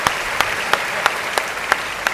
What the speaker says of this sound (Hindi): तालियां थोड़ी कम है व्यंग के लिए।